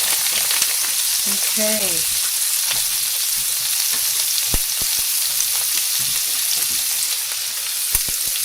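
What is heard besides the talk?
peppers frying in a pan on high heat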